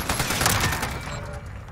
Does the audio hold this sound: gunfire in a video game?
yes